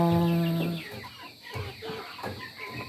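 Several hens cluck in a farm yard together with a rooster, opening with one long sustained call and then breaking into irregular nearby clucks and squawks.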